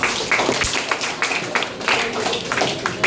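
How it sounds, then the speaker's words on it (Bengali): A small group claps together for a correct answer in a classroom-style session, a brief burst of quick, close, uneven claps lasting a few seconds. "চমৎকার, তার জন্য একটা তালি হয়।"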